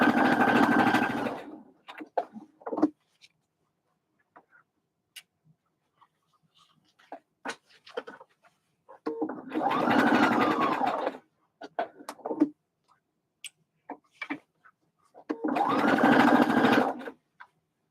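A sewing machine stitches a cotton bucket hat in three loud, steady bursts, with quiet pauses and small handling clicks between runs.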